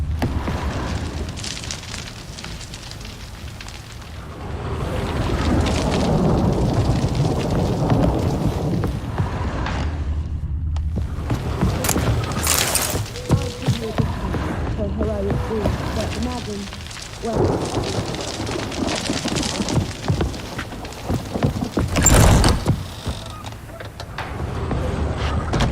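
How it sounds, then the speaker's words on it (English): Stormy weather in The Witcher 3 game, with steady rain hiss and rolling thunder, including a loud crack near the end, running under sporadic game voices throughout. "A storm, damn it."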